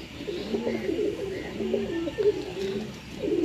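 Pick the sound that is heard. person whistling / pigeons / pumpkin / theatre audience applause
pigeons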